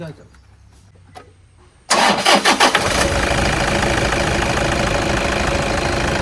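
Toyota Innova engine cranking and catching at once with a few uneven pulses, then settling into a loud steady diesel-like idle, after a quiet stretch with faint voices.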